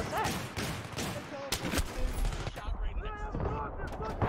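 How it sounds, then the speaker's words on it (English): Gunfire from a zombie shooting video game, a run of sharp shots and bursts up close and fairly loud, mixed with game sounds and occasional talk. "I was shooting a zombie."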